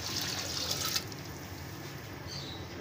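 Water pours into a cooking pot for Lahori murgh chanay (chicken with chickpeas): a steady, close splashing rush for about a second, then a quieter trickle.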